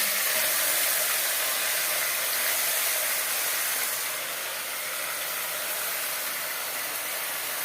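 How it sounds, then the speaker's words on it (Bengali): Mutton hits two spoons of hot mustard oil for a Bengali potato mutton curry, raising a steady, loud, broadband sizzling hiss that holds for nearly eight seconds and eases slightly toward the end, with no talking. "দু চামচ সরষার তেল গরম করে নিয়েছি এবার দিয়ে দেবো মাংস"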